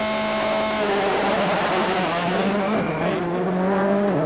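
A Peugeot 206 rally car crewed by Belgians Freddy Loix and Sven Smets races along the Margam special stage at Wales Rally GB 2003, its engine note climbing and dropping through gearchanges, loud and close, with faint tyre scrabble and no talk.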